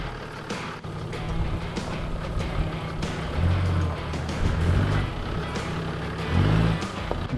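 A Toyota 80 series 4WD grinds off road through washouts, its engine droning steadily and surging in a few heavy revs, with rattles and knocks from the rough track.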